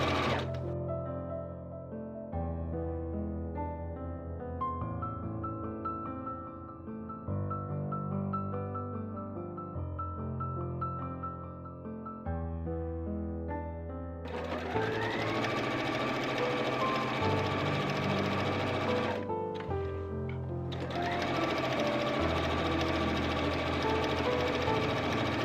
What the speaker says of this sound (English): So here I am sewing the side seams for the bottom tier of my skirt together.